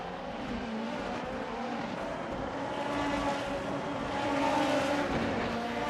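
Race cars in Assetto Corsa, 2020 Super Formula machines at Bahrain, roar down the start-finish straight in a steady, dense engine drone that swells slightly toward the end.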